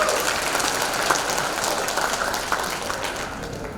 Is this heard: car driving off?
no